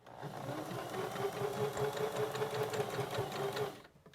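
A sewing machine stitches straight over a hair tie, a steady close whirring with rapid needle rhythm for nearly four seconds before stopping abruptly.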